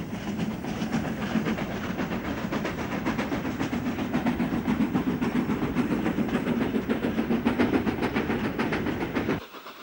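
A steam locomotive hauls a train up an incline, banked in the rear by a 4F, rumbling steadily close by for nearly ten seconds, with rhythmic chuffing and clatter of wheels that cuts off abruptly near the end.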